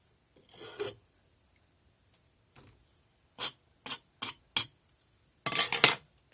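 Excess investment is scraped off the end of a casting flask in several short rasping strokes, close and crisp, separated by silent gaps and ending in a longer gritty scrape.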